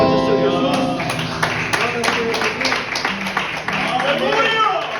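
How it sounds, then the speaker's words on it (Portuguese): A church congregation claps in a steady rhythm at a worship service in Perus, São Paulo, the sharp regular beats sounding over sung or spoken voices and music. "Vamos aplaudir o Senhor Jesus."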